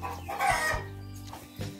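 Chicken clucking on a rural Brazilian farm, a few short throaty calls with faint fowl noise around it and no talk.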